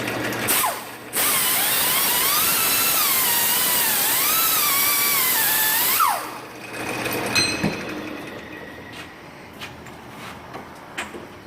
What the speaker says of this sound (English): Need that unidirectional finish on it with a little grind tool.